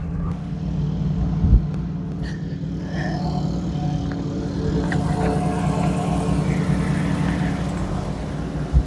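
A car passes on the road beside a parked 1981 Jeep CJ7, a low rumbling engine and tire noise swelling and fading at moderate distance over steady background hum, with no talk.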